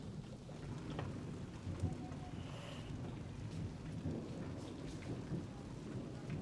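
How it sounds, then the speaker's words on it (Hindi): Heavy rain pouring steadily outdoors in a family courtyard, a dense continuous hiss of drops on surfaces with low thunder rumbling underneath, no voices. "बारिश जो है ना वो काफ़ी तेज़ लग गई है।"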